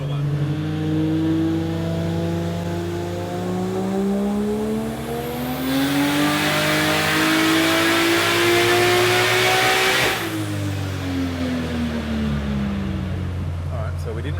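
A race car's engine revs hard on a brief test run, its strained note rising steadily for several seconds, then falling back to a lumpy idle, loud and close throughout.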